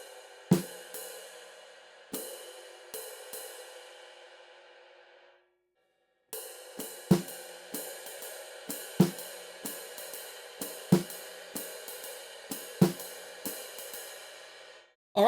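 Slow jazz comping on a drum kit, with ride cymbal and hi-hat strokes ringing out in a sparse, steady pattern and soft low hits beneath, one short pause midway, quiet and close.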